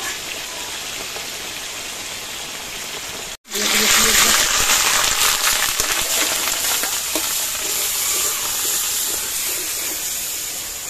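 Food frying in a pan gives a loud, steady sizzle and hiss. It starts moderately, drops to near silence for a moment, then surges louder as more pieces go into the hot oil and keeps crackling continuously.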